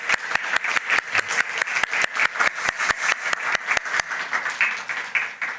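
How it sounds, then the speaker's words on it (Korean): Church congregation applauding during a Sunday service, sharp, sparse, rhythmic claps sounding close by and standing out over a softer wash of clapping from the wider crowd. "우리 박수 하겠습니다."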